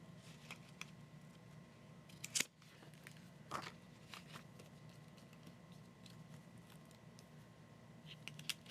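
Faint, close snips of scissors trimming a planner sticker, several sharp isolated cuts spaced irregularly over a quiet room background.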